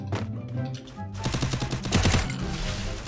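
UMP submachine gun fire in the Free Fire mobile game: a rapid, loud volley of gunshots with a few separate shots first, then a dense burst that continues to the end.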